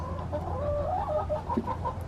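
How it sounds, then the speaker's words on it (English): Several chickens cluck and murmur close by, a chattering series of short calls over low background hum. "Sorry to scare you, chickens."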